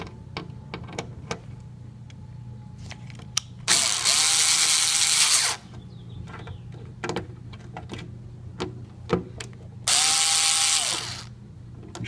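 A hand ratchet drives screws while a garage door opener is being installed, giving rapid close clicking bursts interspersed with two longer loud buzzing runs of a powered drive, over a steady low hum.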